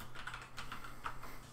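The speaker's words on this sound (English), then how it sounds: "just start typing Android Studio" Someone types on a computer keyboard in a quick, light patter of close key clicks over a quiet background hum, with no speech.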